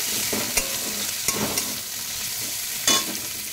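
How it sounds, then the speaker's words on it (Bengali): Onion and ginger sizzle steadily in a hot pan, with a few distinct scrapes of stirring cutting through the frying hiss over a few seconds. "পেঁয়াজটা আদা ভাজা হয়ে গেল,"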